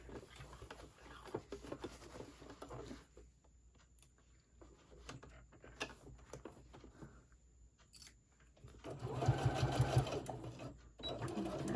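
A sewing machine stitches a boxy pouch, quiet bursts of rapid mechanical clatter broken by pauses, with a louder, faster run near the end.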